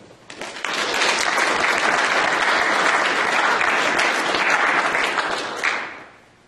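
A conference audience bursts into steady applause to welcome a speaker to a talk on Bitcoin. The clapping swells quickly, holds dense and even for about five seconds, then fades out.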